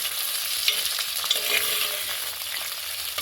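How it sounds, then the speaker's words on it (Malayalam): Chopped ginger and slit green chillies, with curry leaves, fry in a pan while being stirred for a Kerala prawn curry, giving a dense, even sizzle with light scraping throughout. "ഒരു പീസ് ഇഞ്ചി അരിഞ്ഞത്, 3-4 പച്ചമുളക് കീറിയിട്ടതിടാം. ഇതെല്ലാം കൂടി ഒന്ന് ഇളക്കി കൊടുക്കാം."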